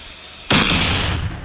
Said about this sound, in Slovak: poďme na normálny granát, ktorý používame aj dneska